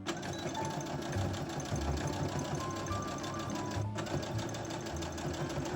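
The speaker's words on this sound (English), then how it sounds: "Now another edge stitch right on the pleats only." A sewing machine runs steadily, edge stitching along the pleats of a polka dot fabric bag, with a fast, even mechanical whir and rapid needle ticking that stops briefly partway through and then resumes.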